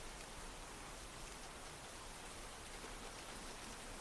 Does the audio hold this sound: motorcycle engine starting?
no